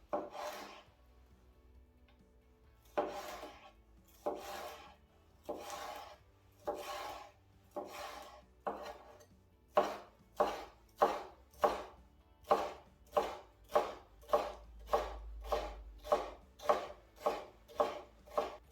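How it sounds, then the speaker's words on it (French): A knife slices ratatouille vegetables lengthwise into thin strips on a cutting board, producing close, crisp strokes that start spaced apart and then become a fast, steady rhythm of repeated cuts. "dans le sens de la longueur, toujours, on fait des lamelles"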